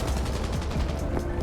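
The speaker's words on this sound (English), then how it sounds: "Fireworks. I think those are the ones that sparkle." Fireworks going off in the Cyberpunk 2077 game world, a rapid crackling burst of sharp popping reports that runs continuously and loud, sounding like dense gunfire.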